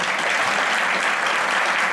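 An audience at a film screening and debate event applauds its two debaters with a short, dense burst of steady clapping, loud and close.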